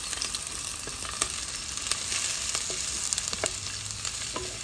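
Chopped onions hiss and crackle as they fry in hot oil in a clay pot during Konkani fish curry cooking, a dense steady sizzle with scattered pops, close and alone.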